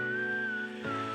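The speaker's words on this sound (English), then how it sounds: "That whistle is going to be in my head all day, and I can't whistle like that." A clear whistled melody line from a music video, one sustained tone gliding slightly over about a second before a brief pitch drop, heard over a steady backing of music.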